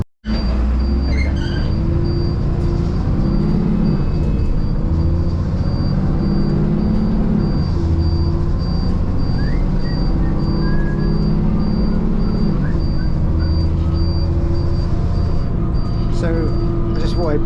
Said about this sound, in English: So I just thought I'd play the clip just so you can hear how nice this sounds. This bus is incredible.